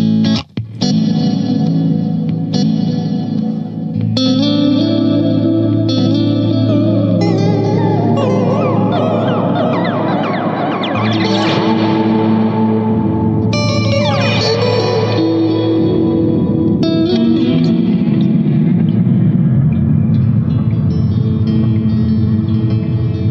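Guitar run through tape delay and reverb effects rings out loudly in sustained, swelling layers, with echoing repeats smearing notes into a long washy ambient tail.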